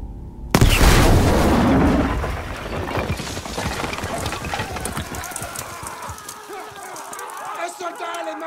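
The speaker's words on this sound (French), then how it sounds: "On va utiliser ce canon!" Cannon firing in the World War II shooter game Battlefield V, a sudden loud boom that rings out and fades into rumbling battle noise, with soldiers shouting throughout.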